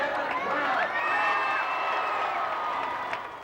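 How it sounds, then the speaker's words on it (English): A crowd in a Melbourne street cheers Collingwood football players, a sustained wash of cheering, whistles and whoops heard from a moderate distance. "cheered all the way by their adoring fans"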